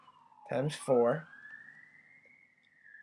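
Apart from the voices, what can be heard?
siren in the background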